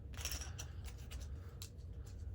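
Small plastic board game tokens from Marvel Zombies X-Men Resistance being shuffled, soft faint rattles and clicks over a low steady hum, close by and quiet.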